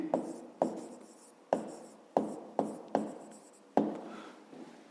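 Pen scratching across paper during a maths lesson, about seven quick distinct strokes, each a sharp attack fading away, close and fairly quiet with no talking.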